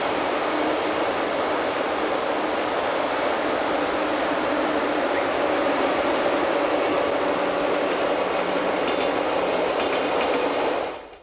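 The Glacier Express runs on the Albula line into the 652-metre Rungux helical tunnel, giving a loud, steady rushing roar of wheels and carriages that holds for the whole stretch and then cuts off abruptly.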